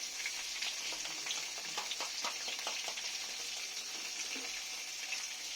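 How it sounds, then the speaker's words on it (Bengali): Pointed gourd (potol) fries in a pan with a steady, close hissing sizzle and scattered crackles and pops, with no voices. "পটলটা আমার একটু ভালো করে ভাজা হয়ে গেছে।"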